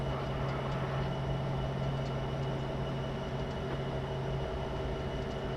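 An EMD SD75 diesel locomotive hauls a freight train in Train Simulator 2017, a dense continuous engine drone with a steady low hum and rolling rail rumble, loud and unbroken throughout.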